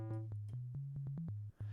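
A low, pure synthesizer sine tone plays a quick run of notes that step slightly up in pitch, with soft clicks between them.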